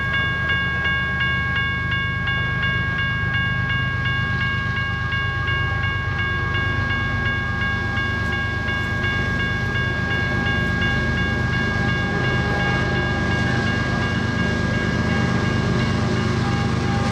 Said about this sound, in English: the eastbound UP intermodal train glides across the diamond